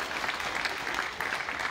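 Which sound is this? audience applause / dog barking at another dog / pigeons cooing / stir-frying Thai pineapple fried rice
audience applause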